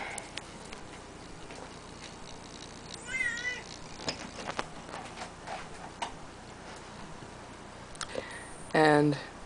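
A pet cat meows indoors, a short rising cry midway followed by a louder, clearer meow near the end, over faint ticking and light room noise.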